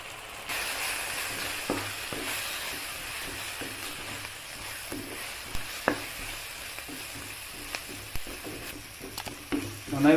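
Liver fry masala sautéing in a pan with turmeric and spices, a steady close sizzle broken by scattered scraping stirs and clinks of the spoon, no voices.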